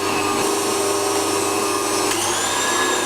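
An electric meat grinder runs steadily while mincing meat for double cheeseburger patties, a loud continuous motor whine and rumble filling the whole stretch with a slight shift in tone partway through, no voices over it.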